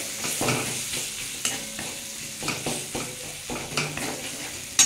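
Cumin powder and turmeric are sautéed in a pan for a vegetarian spinach paneer dish, with a close steady sizzle broken by repeated scraping stirs of a spoon against the pan.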